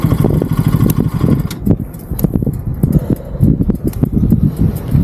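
A KTM RC200 and a Bajaj NS200 motorcycle in a drag race, their engines roaring loud and close with pulsing revs, heavily buffeted by wind noise throughout.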